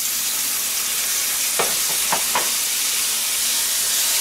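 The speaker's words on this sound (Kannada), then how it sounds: "ಈರುಳ್ಳಿನ ಸ್ವಲ್ಪ ಫ್ರೈ ಮಾಡಿಕೊಂಡು ಟೊಮೊಟೊ ಹಣ್ಣನ್ನು ಹಾಕ್ಕೊಳ್ಳಿ." Onions and tomatoes frying in a pan for pizza sauce make a loud, steady close sizzle and hiss, with a few brief clinks of a spatula stirring.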